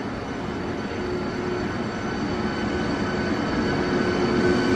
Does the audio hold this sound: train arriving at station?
yes